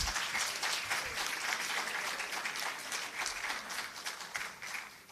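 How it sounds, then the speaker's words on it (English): Steady applause from an audience at a public sector debate competition playoff, many hands clapping in a continuous, moderately distant patter that slowly tapers toward the end, with no voices over it. "A round of applause."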